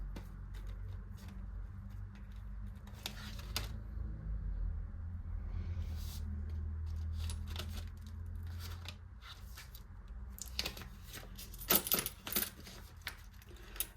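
Small coins clink and drop, sorted by hand into savings envelopes and a binder, with scattered metallic taps and a cluster of sharper clinks near the end over a low steady room rumble.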